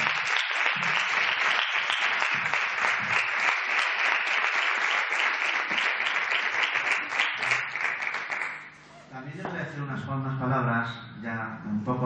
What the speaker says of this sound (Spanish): Así que, por favor, un aplauso para él.